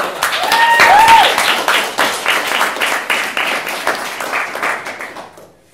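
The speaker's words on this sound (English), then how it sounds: "Can we get a huge round of applause for all the speakers?" An audience applauds the speakers at the close of an evening ideas event. Dense, steady clapping from a sizeable crowd swells briefly, then gradually fades out.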